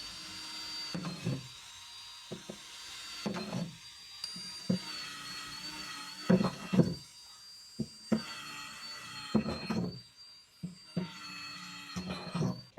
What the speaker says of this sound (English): I'm going to drill the holes in this container.